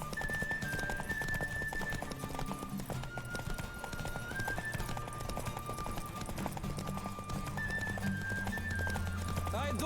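Hooves pound in a rapid, continuous rhythm as a horse gallops through a race in The Witcher 3: Wild Hunt, the drumming steady throughout, with sustained musical tones over it and occasional voices.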